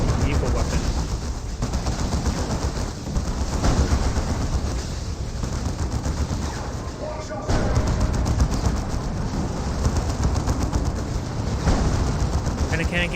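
A dense, unbroken barrage of gunfire, cannon blasts and explosions fills a Dawn of War 2: Elite battle, including a Predator's cannon firing on a Razorback, loud and chaotic throughout with no pauses.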